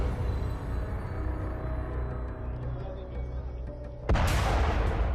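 A sudden loud blast cuts through a steady low rumble near the end, a single heavy boom after several seconds of dull background noise.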